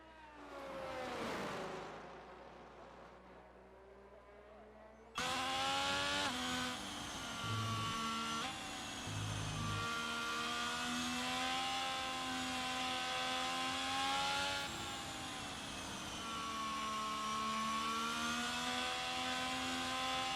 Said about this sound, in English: First driver out onto the circuit is the Alfa Romeo of UFRL Luke